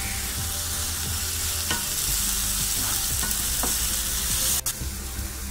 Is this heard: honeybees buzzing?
no